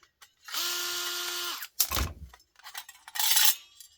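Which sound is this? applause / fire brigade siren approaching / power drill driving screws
power drill driving screws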